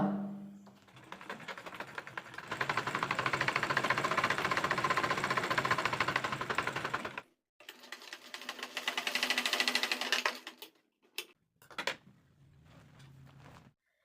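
Sewing machine stitching around the collar of a half-collar kurti, a steady whirring run of about seven seconds, then a shorter burst, brief stops and starts, and a final quiet stretch.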